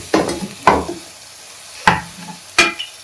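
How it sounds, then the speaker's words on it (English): Pepper and salt being stirred into mushroom fried rice: four separate scraping spoon strokes against the pan, close and fairly loud, with faint sizzling between them and no talking. "So we'll stir pepper and salt in this now properly"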